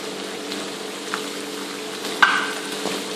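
Vegetable Manchurian simmering in gravy in a pan, a steady soft sizzle and bubble with light stirring clinks, one sharper scrape partway through, no voices.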